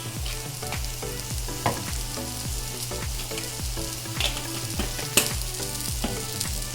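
Crab roast curry masala with garam masala sautéed in a pan, a loud steady sizzle with rhythmic scraping strokes of a spatula repeating about every half second, close up, no talk.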